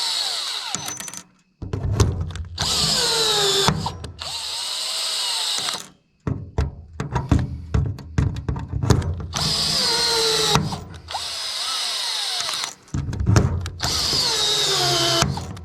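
A cordless drill fitted with a rivet tool sets aluminum rivets during a plastic hinge installation, giving repeated loud whirring bursts of a few seconds each, separated by short pauses and snapping clicks, close up with no talk.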